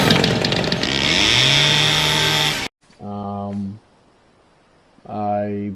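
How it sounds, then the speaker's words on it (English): A chainsaw in the survival video game The Forest runs steadily and loud for about two and a half seconds, then cuts out abruptly, leaving short bursts of another tonal sound. "I've acquired a chainsaw."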